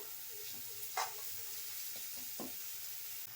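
Masala spices (garam masala, goda masala, saoji masala) stirred and frying in a pan for chole, with soft sizzling under a few scraping stirs and taps of the spoon, no talk.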